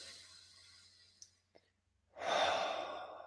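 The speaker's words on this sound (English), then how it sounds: "Just breathing." Deep, slow breathing during a meditation session: a soft exhale trails off into near silence, then a loud, full breath rushes in close to the microphone and holds steady to the end.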